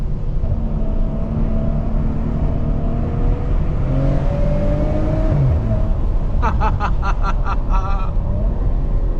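Maserati Ghibli S engine droning and revving steadily under a car-interior rumble, then a rapid burst of sharp exhaust pops and crackles near the end, with a voice talking over it.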